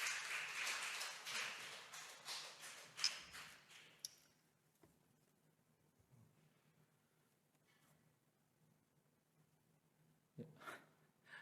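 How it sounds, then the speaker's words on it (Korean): Congregation applause at a Korean church dawn prayer service in Thailand, welcoming a missionary: clapping for about four seconds that fades out, then a long near-silent stretch broken by a few small thumps and a brief rustle near the end. "우리 선교사님 나오실 때 새벽이지만 우리 박수로 환영하겠습니다"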